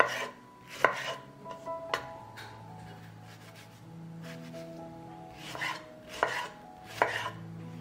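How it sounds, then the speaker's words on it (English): A knife chops tomatoes, a kilogram being cut for grinding, in a few sharp, separated knocks spaced irregularly over a low steady background hum, with no talk. "Now I will cut and grind a kilogram of tomatoes."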